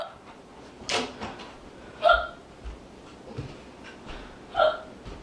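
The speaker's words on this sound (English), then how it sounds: "Sorry, I have the hiccups." Hiccups from a person indoors, four or five sharp, isolated catches spaced about a second apart, fairly close and alone with no talking.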